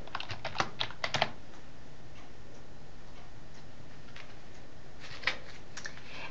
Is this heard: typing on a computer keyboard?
yes